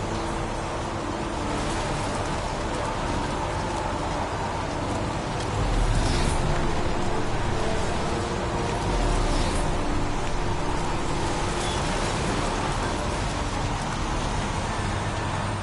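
Rain falling in the game Heavy Rain, a continuous loud hiss of downpour with a low rumble underneath and a couple of heavier swells midway.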